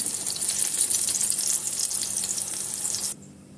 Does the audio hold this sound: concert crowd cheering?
no